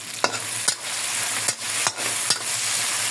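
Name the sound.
beef being sautéed and stirred in a pan for mechado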